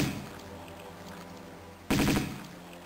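Gunfire in the video game Tomb Raider II, aimed at a fish, arrives as a sudden loud burst of rapid shots after a stretch of low ambient hum, then fades.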